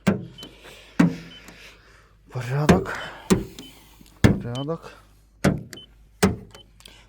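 Rear doors of a 2019 Renault Kangoo Z.E. 33 electric van opened and shut, several sharp latch clunks and slams spaced through the clip, close by, with someone talking briefly between them.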